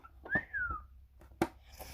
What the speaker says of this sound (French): Ouais, je sais siffler.